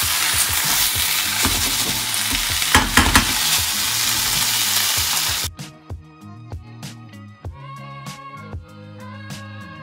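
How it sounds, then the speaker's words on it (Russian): Steaks fry in a pan with a loud, dense sizzle for the first half, then the hiss cuts off and is followed by intermittent clinks and stirring noises, close by. "И на этой сковороде сейчас будут стейки."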